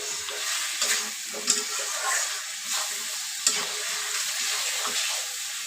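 Chicken stir-fries with dry spices in a pan: a continuous sizzle broken by periodic scraping stirs and a couple of sharper clinks, close and fairly loud, with no talking.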